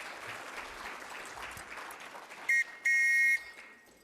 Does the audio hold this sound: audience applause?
yes